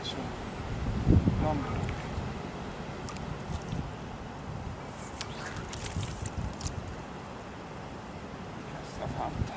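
Gusty wind buffets the microphone in low rumbling bursts, strongest near the start, while a person speaks briefly.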